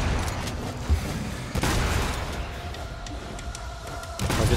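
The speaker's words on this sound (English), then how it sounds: "I'll just hit him with a shotgun." Heavy booming shotgun blasts in the video game Devil May Cry 5, a few loud bursts spaced apart amid dense combat noise, with no one talking.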